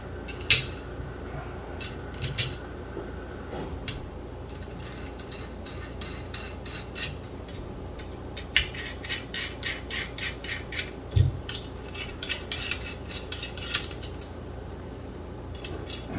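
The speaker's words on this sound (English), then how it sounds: "And I'll put my 3 lock screws back in." Three lock screws go back into a photon cage, heard as a run of small metallic clicks, ticks and light rattles in quick, irregular bursts, close and fairly quiet.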